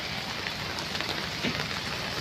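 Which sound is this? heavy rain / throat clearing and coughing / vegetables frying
heavy rain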